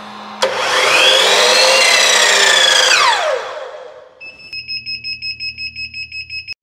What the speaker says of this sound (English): So really there's only one thing left to do is to turn on the miter saw.